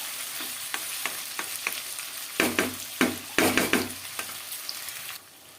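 Duck meat stir-fried uncovered in oil in an Assamese kitchen, with a soft sizzle beneath a run of rhythmic spatula scrapes and clatters that grow louder and busier midway and then stop, leaving a faint hiss.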